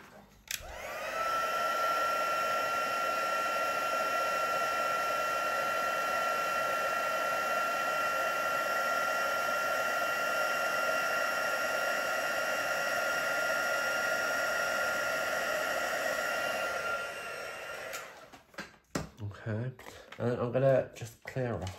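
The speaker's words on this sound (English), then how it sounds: "And then I'm gonna heat set that as well." Steady, loud whirring hum of a heat tool blowing hot air to set embossing powder on a handmade card, running continuously for about sixteen seconds, then clicking off into quieter handling noises.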